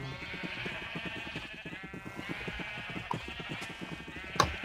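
Minecraft sheep bleating, a wavering, repeated baa with a quick pulsing rhythm, moderately close, plus a sharp click near the end.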